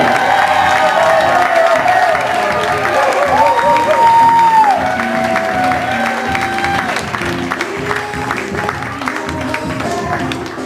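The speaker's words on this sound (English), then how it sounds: "Alright, let's give a big round of applause to the parents." Wedding guests applaud the parents of the couple at a reception, a loud, sustained burst of clapping and cheering with whoops and crowd voices that carries on steadily throughout.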